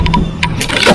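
A Mahindra Thar off-road vehicle accelerates on a dirt track, a brief loud burst of engine and rumble with some rattling, close to the microphone.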